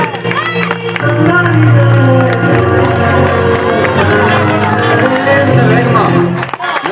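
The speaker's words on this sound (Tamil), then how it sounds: "வேகமா கைத்தட்டீங்க, சத்தமா கைத்தட்டீங்க, மொத்தமா கைத்தட்டீங்க, சத்தம் அதிகமா வேணும்." A large audience at an Ambedkar Jayanti award ceremony claps loudly, a steady wash of hands and scattered cheers that holds for several seconds before cutting off.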